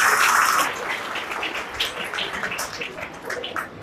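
Audience applause at an award ceremony during the Karachi International Book Fair 2018, a burst of dense clapping that thins into scattered claps over a few seconds, fairly close and without talk.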